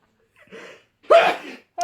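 A single sharp sneeze bursts out close by, preceded by a quick breathy intake and followed by a short noise.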